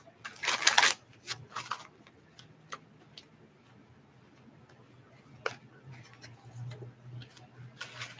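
Tarot cards being shuffled in a quiet room: a few short, soft riffling bursts, the longest near the start, separated by stretches of near silence and faint ticking.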